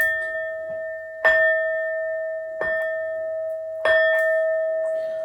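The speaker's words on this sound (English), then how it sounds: "These next 4 bell sounds are to align us and to bless this reading." Four resonant bell strikes ring out at uneven intervals, each with a sharp attack and a long sustained tone that fades slowly before the next.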